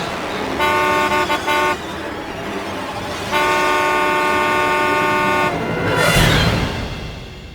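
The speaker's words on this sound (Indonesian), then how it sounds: "Lalu aku menyalakan klakson sekencang-kencangnya." A car horn honks loudly and close by in a few stuttering bursts, then blares in one long sustained blast before a vehicle rushes past.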